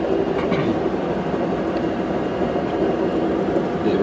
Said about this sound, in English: we're going through a big train yard with the freight lines.